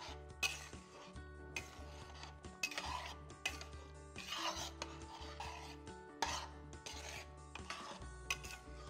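A spoon stirs a thick, creamy mix of cooked dal, curd and milk for Sultani dal in a metal pot, making steady rhythmic scraping and rubbing strokes, close up over a low constant hum, with no voices.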